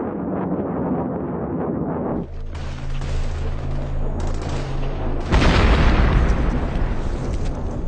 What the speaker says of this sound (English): A US AC-130 gunship strafes the mountain ridge.